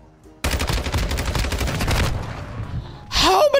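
Call of Duty gunfire: a dense burst of rapid automatic shots runs for well over a second, loud and close, then tails off before a fresh sharp report and ringing tones at the end.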